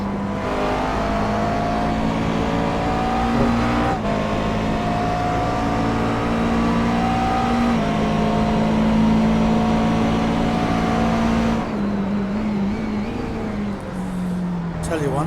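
GT3 race car engines in the iRacing sim at Zandvoort, an endurance series round, drone steadily in layered tones that rise and fall through gear changes, with commentators talking over them throughout.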